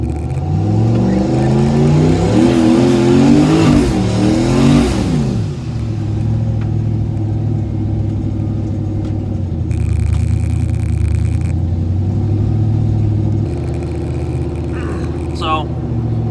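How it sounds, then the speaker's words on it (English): Turbocharged car with a VSR 78/75 cast turbo doing a rolling burnout, engine loudly revving up through rising pitch sweeps, then a sustained heavy roar with tire noise, close and loud, with faint voices in the background. "I'll just show you how it lights doing a regular burnout"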